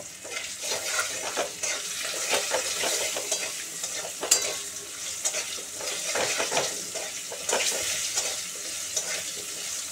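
Potato pieces frying in a pan with turmeric and salt, a continuous sizzle broken by repeated stirring scrapes and light utensil clinks, close and steady with no one talking.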